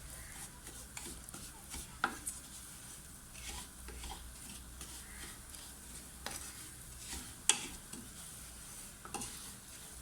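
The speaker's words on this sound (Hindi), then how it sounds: "चमचा मसलसल चलाते रहेंगे ताकि ये एक जगह से रह के जल ना जाए" Semolina halwa stirred steadily with a spoon in a pan over low heat, a quiet continuous scraping with faint sizzle and a few sharper taps of the spoon against the pan, no voices.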